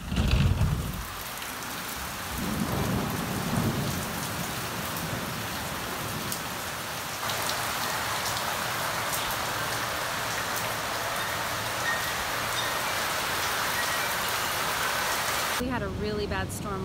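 Heavy rain pours steadily during a night storm on Hawaii's Big Island, a dense continuous hiss with a louder rumble near the start and voices briefly at the end.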